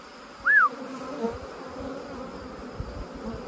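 A steady, dense buzz of many honey bees crawling on feeding patties fills the air, close and continuous, with a brief higher whine near the start and no talking.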